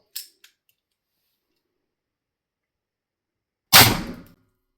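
A single loud gunshot blast from a SAPL Gomm-Cogne GC 54 defense weapon rings out close by and decays over about half a second, preceded by a couple of faint clicks.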